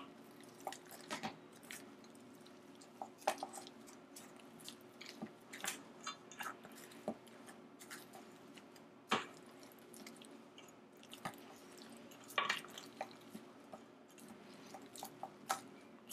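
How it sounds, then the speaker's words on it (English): Boiled potatoes are mashed in a bowl with a hand potato masher, producing quiet, irregular wet squishes and soft clicks. The sounds are close and faint, with no voice. "So now we're gonna see if the potato masher lives up to its expectations."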